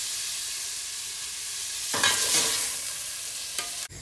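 Diced lamb browns in a frying pan with a constant hiss of sizzling fat, broken by a spatula stirring and scraping midway and a clunk near the end.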